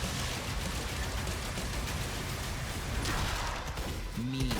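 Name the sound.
gunfire from video game DOOM: The Dark Ages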